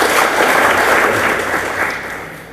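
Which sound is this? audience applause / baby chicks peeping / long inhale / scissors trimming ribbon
audience applause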